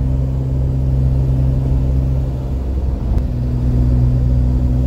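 Engine of a restored Alpine car while driving on the road, a steady loud low rumble with an even drone that holds throughout, no voices.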